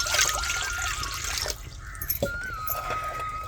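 Water poured from a pot into a heated kadhai for egg curry, a close trickling splash that continues with shifting gurgles and small clinks, without any talking.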